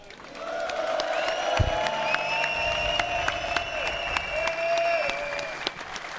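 A large crowd at a Red Bull Wololo Age of Empires tournament grand final applauds steadily, dense clapping with whoops and cheers rising over it, while an amplified voice talks through the noise.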